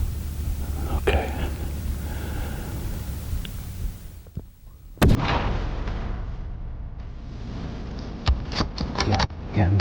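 A rifle shot during a moose hunt cracks out sharply around the midpoint, a single loud report after quiet whispering, followed by low rustling and a couple of faint knocks.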